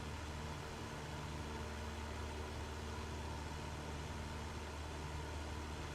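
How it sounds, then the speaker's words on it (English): Aircraft engine in Flight Simulator 2024 idling as a steady low drone, constant and moderately faint with no variation throughout. "he'll be able to hear the aircraft engine now"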